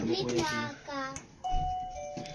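A doorbell chimes, a sustained ringing tone rising over someone talking and other voices nearby.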